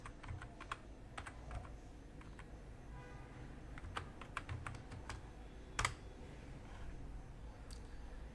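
Keys clatter on a computer keyboard in quiet, scattered bursts at close range, with a single sharper clack near the end and no talking.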